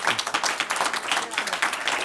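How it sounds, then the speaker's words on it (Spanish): Audience applause at a lecture session in Valparaíso, a short dense burst of clapping from a room of listeners, moderately loud and steady for about two seconds. "Pero creo que primero un aplauso."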